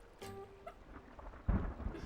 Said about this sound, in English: The distant rumble of thunder fills the air.